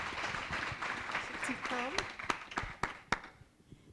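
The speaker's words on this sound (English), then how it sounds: "A round of applause to encourage him" Audience applause welcomes a guest at a Kenya investment learning event: dense broadband clapping from a crowd, with a few sharp individual claps standing out. A voice speaks briefly over it before the applause thins and fades.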